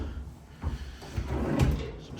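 Hotel room drawers at the InterContinental Miami are slid open and shut, producing soft rolling slides and a couple of close, muffled thuds.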